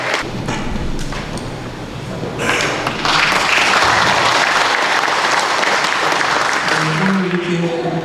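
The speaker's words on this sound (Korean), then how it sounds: "박수로 맞이해 주시기 바랍니다." An audience in a church hall claps to welcome a speaker at a forum, the applause swelling into a loud, sustained wave; a voice briefly speaks over the start and end.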